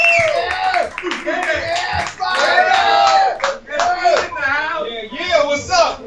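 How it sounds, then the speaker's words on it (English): An audience greets a performer at an Oceanside, California open mic with clapping mixed with whoops and cheers, loud and steady for about six seconds, with a voice calling over the crowd. "please applaud loudly"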